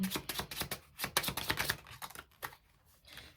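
Tarot cards being swapped out and shuffled by hand, giving a quick run of crisp, clicking taps and riffles up close, with no one talking.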